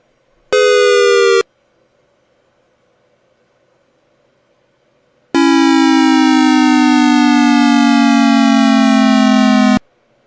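An electronic siren sounds loudly in two bursts, a short blast followed by a long steady wail that slowly drops in pitch, with silence between.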